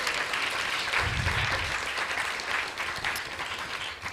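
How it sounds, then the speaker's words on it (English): An audience at an ISKCON temple gathering in Dallas claps in sustained, dense applause that stays steady for about four seconds. "Let's give them a big round of applause, please."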